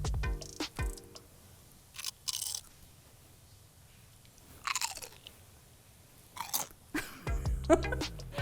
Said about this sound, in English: I just tried a little piece of onion.